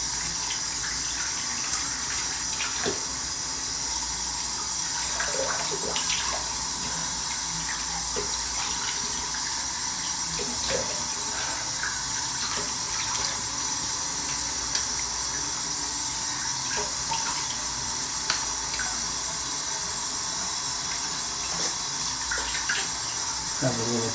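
Running tap water pours steadily into a sink as a travel razor, a Parker 81R, is rinsed beneath it, a continuous close splashing hiss with small irregular clinks and shifts.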